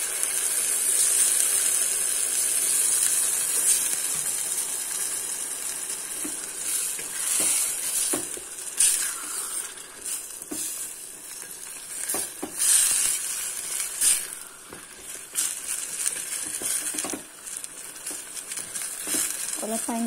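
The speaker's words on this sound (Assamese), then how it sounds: "অলপ পানী দিছোঁ, এইখিনি পানী শুকালে আৰু অলপ পানী দিম পিছত।" Water added to pigeon curry frying in a pan gives a continuous high sizzle with bursts of bubbling and occasional stirring clatter, steady and close throughout.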